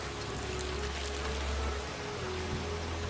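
Steady rain falls in a My Little Pony cartoon scene, a dense continuous hiss of drops filling the whole moment at an even, fairly loud level with no talking.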